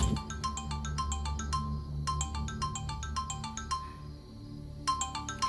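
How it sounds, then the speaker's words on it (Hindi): A bright, tinkling ringtone plays in repeated rapid bursts with short pauses between them, over a low steady hum. "आ गया फोन।"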